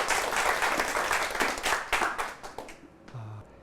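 An audience at a Korean talk concert breaks into loud applause that fades out after a few seconds, with no voices over it.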